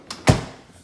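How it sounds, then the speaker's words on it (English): The center drawer of a Samsung 28 cubic foot Family Hub fridge slides and bumps shut, a light tick followed by a fuller thud with a short fade, close and alone. "You go down here to the center drawer"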